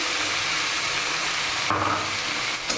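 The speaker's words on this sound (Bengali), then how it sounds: "এবার এখানে পেঁয়াজ আর রসুন বাটাটা দিয়ে দিচ্ছি" Onion and garlic paste sizzles loudly in hot oil in a pan for koi fish curry, a dense continuous frying hiss, with a brief stirring scrape near the end.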